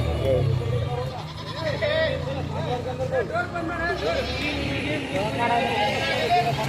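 Goats bleat repeatedly at a busy livestock market in Murud near Latur, several wavering cries overlapping under people talking nearby and general crowd babble.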